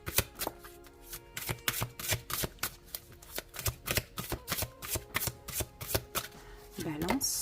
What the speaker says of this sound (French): on va prendre 2 cartes